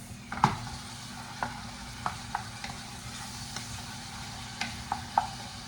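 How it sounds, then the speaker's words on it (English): Food sautéing in a pan on a miniature grill gives a quiet steady sizzle, broken by a handful of sharp utensil clicks and scrapes spaced a second or so apart. "What I do have to saute is this."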